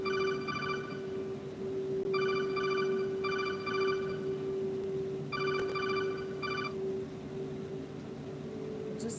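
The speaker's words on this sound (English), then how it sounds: "Oh my God, I have a phone call." A phone rings with an incoming call, its electronic ringtone repeating in short bursts of trilling beeps over a steady low hum, fairly faint and with no talking.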